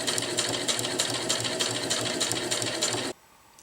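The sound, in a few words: sewing machine top stitching a zippered bag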